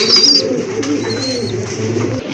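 Iranian grizzle pigeons coo close by in low, rolling, repeated calls against a continuous background murmur, and a faint higher chirp cuts in near the start.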